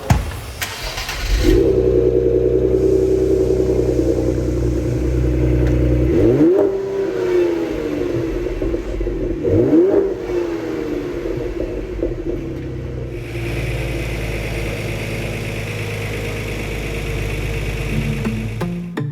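A 2020 Ford Explorer ST engine with performance upgrades starts up, idles with a deep rumble, then revs sharply twice before settling back to a steady idle.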